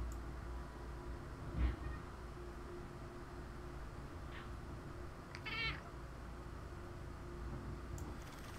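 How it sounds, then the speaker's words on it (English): A cat meows a couple of times at moderate distance over a faint steady hum, with short gaps between calls and no speech. "Hi, Draft Cat."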